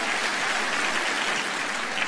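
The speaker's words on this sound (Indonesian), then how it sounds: "Tepuk tangan buat Tuhan yang dahsyat" An audience at a church sermon applauding, a dense, steady wash of many hands clapping at moderate loudness, continuous and without talking.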